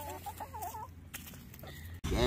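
Chickens cluck softly in a short, uneven series, with steady background hum and a louder noise at the end.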